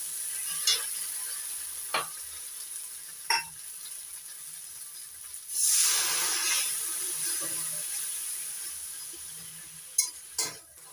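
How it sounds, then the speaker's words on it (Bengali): Spice paste with chopped tomato fries in a pan, with a low sizzle and intermittent sharp spoon scrapes and clinks, one burst of louder hissing in the middle, all close up with no talking. "মশলাটা ভালো করে কষিয়ে নেব অল্প অল্প জল দিয়ে।"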